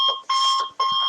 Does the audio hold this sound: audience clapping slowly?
no